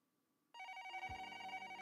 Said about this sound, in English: The phone rang off the hook that entire day.